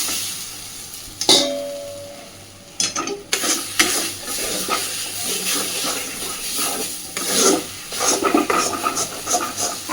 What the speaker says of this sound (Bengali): দেওয়ার সাথে সাথেই ডাল বাটাটা কড়াইতে লেগে যেতে শুরু করেছে